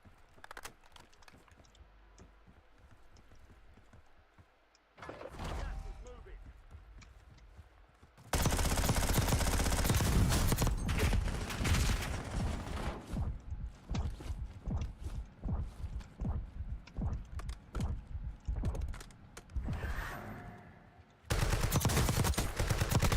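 Heavy automatic gunfire in the Call of Duty Warzone battle royale, loud dense bursts and fusillades starting after a quieter stretch, with rapid repeated shots and clattering mechanisms, no talk.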